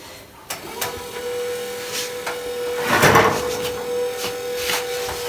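A motorized rotating roller for baking Polish sękacz layer cake gives a steady mechanical hum, broken by occasional soft knocks and clatters.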